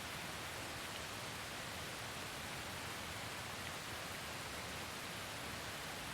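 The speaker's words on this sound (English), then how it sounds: "Rainy out here." Rain in a video game set outside a northern base near a jungle village, a steady, even wash of broadband hiss that holds constant throughout with no voices.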